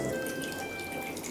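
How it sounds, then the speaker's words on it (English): Kombucha from the first fermentation poured into a bowl, a steady close trickle of liquid running continuously for the whole short moment. "I'm going to take some of the kombucha from the first fermentation and just pour it right on it to keep it moist."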